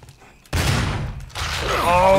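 A gunshot fires in the Resident Evil HD video game: a sudden loud broadband blast, followed by a second burst of combat noise over low rumbling game ambience, with no one talking.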